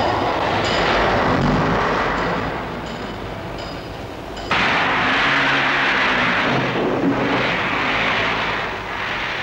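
Freight trains roll through the Hither Green depot in 1961, a loud, continuous rumbling roar of rail traffic with a sudden shift in tone midway, steady and close throughout.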